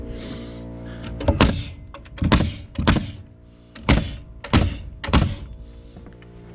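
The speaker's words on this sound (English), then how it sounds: "when my nail gun gets down to the last 3 nails, it stops shooting." Pneumatic nail gun firing nails during home construction work, six sharp thunking shots spaced about a second apart, close and loud, with a brief exclamation at the start.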